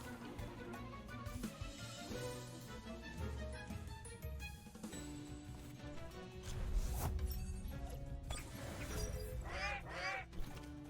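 A pair of bird creatures honking in the Temtem video game, goose-like honks and squawks over game music and effects, fairly faint with a louder burst near the end.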